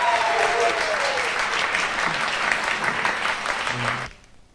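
Dense audience applause at a fan club event, loud and continuous for about four seconds before cutting off abruptly to near silence.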